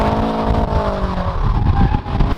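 Widebody supercharged FRS sports car revving close by, a loud engine note that rises and then falls away into rougher rumbling with a hint of tire noise.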